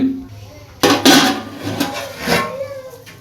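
A metal lid is set onto a pot of Dindigul-style thalappakatti chicken biryani, giving two sharp close clanks followed by a brief rattle and fading ring, with a voice faintly present.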